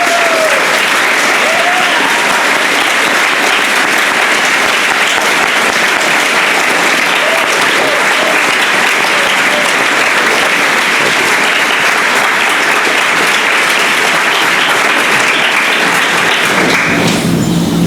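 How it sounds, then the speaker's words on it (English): Loud, sustained applause from a large graduation audience for eighth-grade lifers and their families, a dense continuous roar of clapping at even intensity that drops away abruptly near the end. "with a round of applause"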